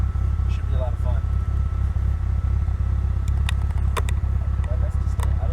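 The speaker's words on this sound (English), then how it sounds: "we're gonna go for a test drive in the Mini Cooper that I don't fit in" A 1996 Rover Mini 1.3i rally-prepared car driving, its engine a steady, loud low drone with a pulsing rumble throughout, with people talking over it from inside the cabin.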